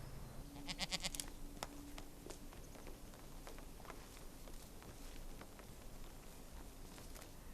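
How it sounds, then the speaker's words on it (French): A goat bleats faintly a few times early on at a rural farm, over steady outdoor background noise and scattered footsteps or hoof taps, with no talking. "J'arrive ou j'ai entendu une chèvre là?"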